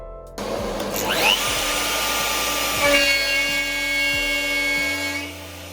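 A router cuts a V-groove in an AluSplash aluminium composite panel. The high, loud whine holds steady for several seconds under a shrill cutting tone, with faint clicks along the way.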